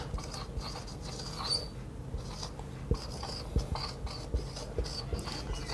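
Marker or chalk writing on a classroom board during a kinematics lesson, a steady scratchy scrawl with small tapping strokes, close and moderately quiet, with no talking.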